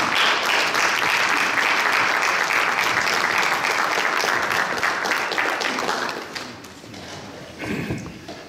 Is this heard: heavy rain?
no